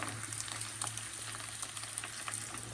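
Roti frying in hot oil during Tihar festival cooking, a steady close sizzle with a low hum underneath and small bubbling pops throughout, no voices.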